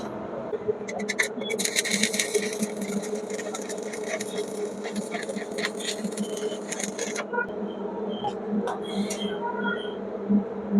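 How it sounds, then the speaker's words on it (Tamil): Rion 400 amp IGBT arc welding machine running at 100 amps, a steady close crackling buzz with a strong electrical hum that holds for several seconds, then drops to a softer hum with scattered ticks. "இப்போ வாங்க நம்ம வெல்டிங் அடிச்சு பார்த்துடலாம்."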